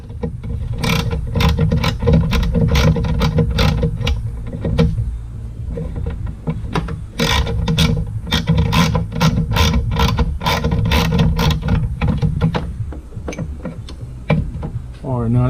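Rapid clicking bursts of a ratchet wrench backing out a bolt inside a 2002 Dodge Ram B1500 van with a 5.2 litre engine, repeated in short runs close to the mic, with a brief voice near the end.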